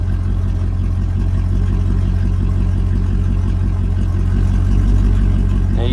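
A 1999 Dodge Durango engine runs steadily at idle with a low mid-range hum, its RPM gradually rising toward the end, loud and close throughout with no talk.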